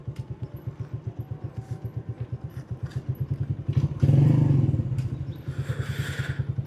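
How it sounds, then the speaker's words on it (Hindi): Honda motorcycle engine thumping at a steady idle-like rhythm as the bike is turned, close and clear, with a louder clatter and scrape midway. "बाइक को मैं टर्न कर लूँ।"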